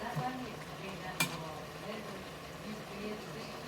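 Sliced cabbage fries in a pan while being stirred, a soft continuous sizzle with faint scraping and one sharp clink of the utensil, quiet and close.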